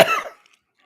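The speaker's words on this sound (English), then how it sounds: "Forgive me coughing" A single short cough, close and abrupt, fading out quickly into silence.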